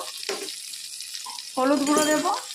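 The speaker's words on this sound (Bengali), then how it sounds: "এবার ভালো করে এটাকে ভাজতে হবে।" Pieces of brinjal (eggplant) fry in an oiled pan, giving a close, crackling sizzle that swells near the end, with a voice briefly heard over it.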